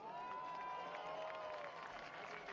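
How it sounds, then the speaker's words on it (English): A crowd applauds and cheers steadily for the third-place driver at the podium after a Freedom 75 and Freedom 90 race at Indianapolis Raceway Park, the clapping continuous and fairly distant over the whole stretch. "Third place today, a round of applause for number 22"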